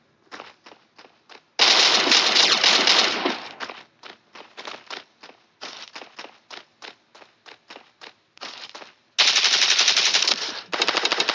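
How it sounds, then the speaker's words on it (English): Gunfire in the video game Warface, including a shotgun: bursts of sharp shots in quick rhythmic runs, with two long, dense volleys of sustained automatic fire, loud and close, with no talk over it. "shooting a shotgun"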